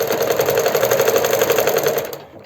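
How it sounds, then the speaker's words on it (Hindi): A sewing machine stitches elastic onto palazzo pants, giving a fast, steady mechanical chatter of needle strokes at an even rhythm, loud and close, before it stops abruptly near the end. "तो अब इस पर सेकंड सिलाई हम लगा रहे हैं।"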